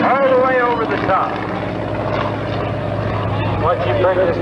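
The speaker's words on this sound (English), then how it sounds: "Watch you bring this big airplane." An aerobatic airplane with a 220-horsepower engine performs at an airshow, its steady propeller drone running beneath continuous announcer commentary.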